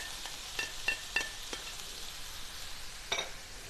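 Finely chopped onions and mustard seeds fry quietly in a pan, a soft crackle marked by a handful of brief sharp pops and ticks.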